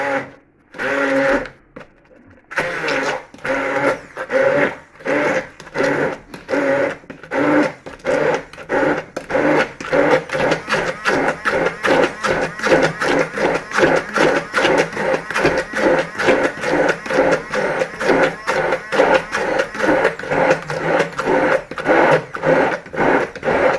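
A blender purees apples with a steady, loud mechanical whir that pulses in a fast, regular rhythm and runs for over twenty seconds after a brief start-and-stop at the beginning.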